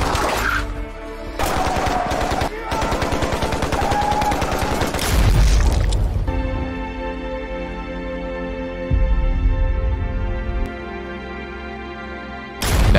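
Bursts of gunfire fill a film shootout with bandits, rapid automatic volleys crackling loud and close, broken by short pauses and heavier blasts, with a sustained mechanical drone carrying through the later stretch.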